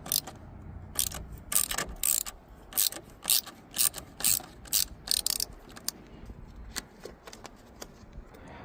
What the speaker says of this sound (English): To remove throttle body, I'm gonna be using small ratchet, extension and 8mm socket.